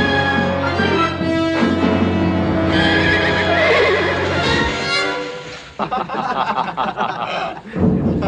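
A horse gives a long, loud whinny that trails into snorting, followed by rough nickering, close by.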